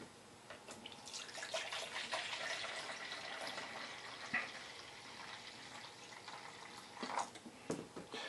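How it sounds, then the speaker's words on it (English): Liquid pouring steadily and gushing from a container, close and continuous for several seconds, with a few small splashes and clinks near the end. "I'm going to pour out 2 cups"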